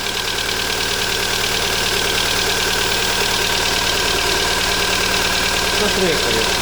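A Volkswagen Golf IV with a 1.6 AZD engine idles roughly on only two cylinders, giving a loud, uneven, knocking chug close by, with people talking over it.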